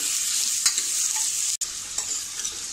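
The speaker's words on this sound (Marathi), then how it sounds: "याला आपल्याला जास्त लाल करायचं नाही, फक्त 2-3 मिनिटासाठी असा परतून घ्यायचा आहे।" A large, finely chopped onion is sautéed in a pan with a loud, continuous hissing sizzle and a few light stirring scrapes, close up.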